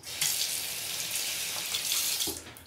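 Tap water runs steadily over a cartridge razor being rinsed at a sink, a close, even hiss with slight splashy shifts as the blade moves through the stream.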